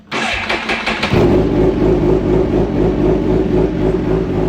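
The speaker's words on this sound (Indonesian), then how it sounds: "Kita dengerin suaranya, kita gebet-gebet sedikit ya." A police-edition Kawasaki H2 motorcycle fires up and revs hard, its loud, close engine note rising to a steady high-rpm roar that holds for several seconds with no talk.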